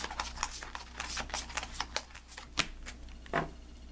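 Tarot cards handled and drawn from a deck, a quiet, close patter of rapid card flicks and rustles, with a couple of sharper taps near the end.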